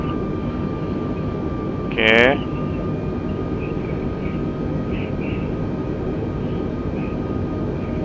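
Airliner cabin and engine drone in Microsoft Flight Simulator during a windy flight, a steady broadband rumble running throughout, with a brief spoken word partway through.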